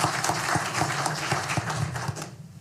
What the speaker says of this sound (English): I think deserves another round of applause